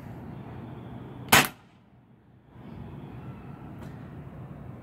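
An airsoft gas blowback pistol, running on brand-new canned gas, fires a single sharp shot through an Ace Tech chronograph. The loud crack stands alone over a steady background hum, and a faint second click follows a few seconds later.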